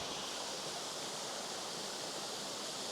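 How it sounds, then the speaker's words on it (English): Two waterfalls on a river give a continuous, even broadband rush of falling water, steady and fairly soft, with no voices. "As you can see, there's 2 waterfalls here."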